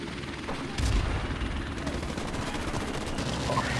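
Gunfire in a Call of Duty: Modern Warfare (2007) multiplayer match, a loud burst of shots followed by dense, repeated rapid firing and battle noise continuing throughout, with some sharp cracks standing out.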